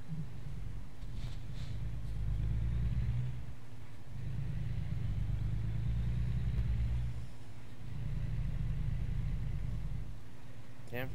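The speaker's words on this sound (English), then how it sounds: "Traffic here." Road traffic in American Truck Simulator: a steady low engine rumble of the truck swells and eases in three long waves, with faint passing vehicles and a voice briefly speaking.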